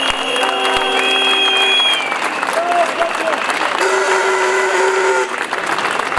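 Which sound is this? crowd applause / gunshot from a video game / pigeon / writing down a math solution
crowd applause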